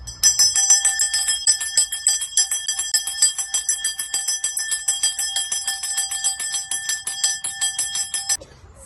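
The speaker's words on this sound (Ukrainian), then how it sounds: "як має звучати перший дзвоник цього навчального року" A bright, metallic school bell rings continuously for about eight seconds, loud and close, with a steady rattling clang that stops abruptly; the first bell of the school year.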